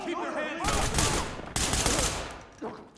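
Rapid bursts of automatic gunfire from a close-quarters police tactical shooter game, loud and dense in two volleys, with brief speech at the start and end.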